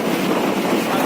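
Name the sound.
wind blowing on moving bus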